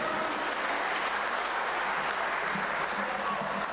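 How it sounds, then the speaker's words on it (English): Steady applause from an audience honouring the Deputy Minister of Finance at a political expo event in Ghana's Eastern Region, a dense continuous clapping that holds at an even level throughout with faint voices mixed in. "Another big round of applause for Dr. Ampabeng"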